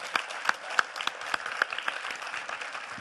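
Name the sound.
applause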